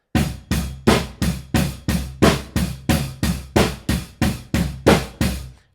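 Bass drum on a drum kit struck by a double pedal in evenly spaced single strokes, about fourteen deep, punchy thumps in a steady moderate pulse, close and loud, with no other instruments.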